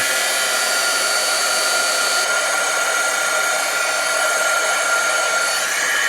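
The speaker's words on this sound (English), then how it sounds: "bring my gun back in, my heat gun, and we're gonna melt this up" A handheld heat gun blows continuously at close range while melting embossing powder on a handmade Christmas card, a loud, steady airy roar with no pauses.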